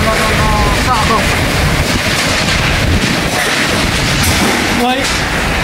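Strong, roaring typhoon wind from Typhoon Yagi in Ha Long buffets steadily against the microphone, with occasional rattles and creaks of debris; no pause in the gusting.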